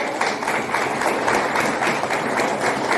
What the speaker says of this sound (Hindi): एक बार उनके लिए भी जोरदार तालियां